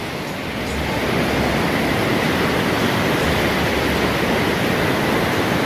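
Loud rushing river roaring steadily beside a trail to Everest Base Camp, a dense broadband torrent of water that swells slightly in the first second and then holds constant and close.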